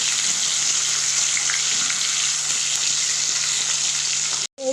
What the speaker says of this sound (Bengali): একটা গোটা টমেটো কেটে রেখেছিলাম, এটা আমি তেলের ওপরে দিয়ে দেবো